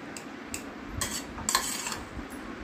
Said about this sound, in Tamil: நல்லா கிளறி விட்டு பாருங்கள்